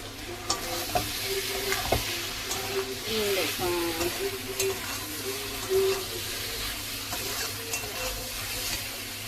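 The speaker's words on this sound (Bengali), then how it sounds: "শাক ভাজাটা হচ্ছে" Leafy greens (shak) frying in a pan for a Bengali home meal, steady sizzling broken by scraping and clattering stirs of a spatula, close and fairly loud.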